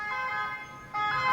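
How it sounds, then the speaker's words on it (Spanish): An ambulance siren wails with a steady two-tone electronic sound, mid-distance and fairly loud, as the ambulance is stuck behind a bus it cannot overtake on a road lined with bollards. "la ambulancia no puede adelantar a la guagua"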